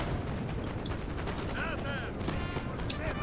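Dense, rumbling booms of cannon fire roll continuously amid battle noise in Napoleon: Total War's Waterloo land battle, with faint talk and clatter layered underneath.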